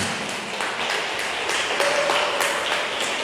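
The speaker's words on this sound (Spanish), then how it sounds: "Vamos a darle un fuerte aplauso a Jesucristo." A congregation at a Catholic parish gathering applauds, steady dense clapping from many hands filling the room without speech over it.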